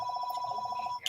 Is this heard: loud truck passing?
no